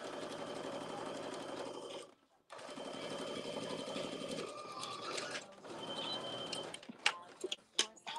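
A Brother Project Runway sewing machine runs in fast, even stitching bursts close by, stopping briefly, then starting again before ending in a few clicks and knocks.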